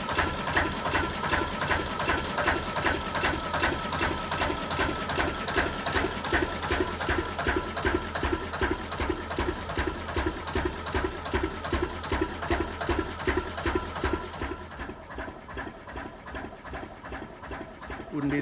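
Old single-cylinder thumper engine ticking over slowly at about 250 RPM, a steady rapid mechanical chuff and clatter that stays loud and even, then drops a little softer near the end, with no talking.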